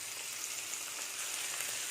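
Chopped onions and tomatoes sauté steadily in hot oil in a pan, a continuous close, bright sizzle and crackle with faint stirring, no voices.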